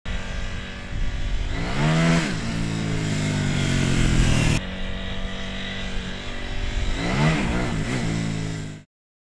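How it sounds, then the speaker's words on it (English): A KTM motorcycle opens full throttle mid-corner on a watered, low-grip test track, and the engine revs loud and close in two rising surges before it cuts off abruptly. "we've lowered the grip by watering the track where our rider opens up the throttle mid-corner."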